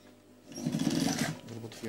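Sewing machine stitching a 2 cm tape onto a slit pocket of a men's jacket, a steady mechanical whir running for about a second and a half at moderate level, starting after a short quiet lead-in.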